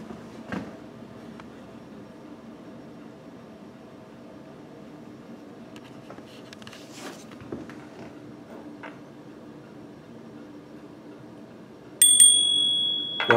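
Inside a haunted mansion, a single clear bell rings out near the end, sharp and fairly close, after a long stretch of quiet room tone with faint scattered knocks.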